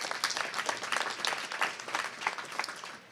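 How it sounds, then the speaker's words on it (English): Audience applause at a Detroit community event on homelessness, a steady patter of many hands clapping for a few seconds, moderately loud, with no talk over it. "Let's give them another round of applause."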